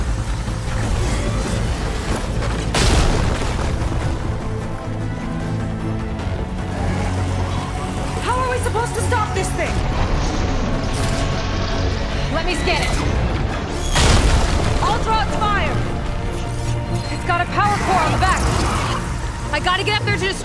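Enemy weapons firing and exploding in the video game Horizon Forbidden West: Burning Shores, heavy booms and crashes over a dense, continuous game soundtrack, with a few louder impacts, while voices shout over the action.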